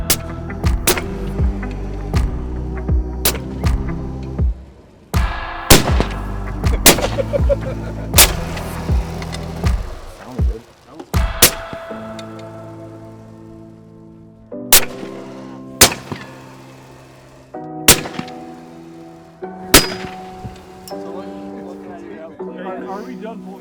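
Suppressed gunshots ring out in a series of sharp, loud single reports at irregular intervals during a suppressor test, with engine-like rumble and voices between shots.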